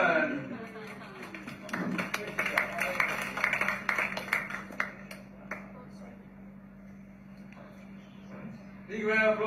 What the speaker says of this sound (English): Big round of applause for Edwin!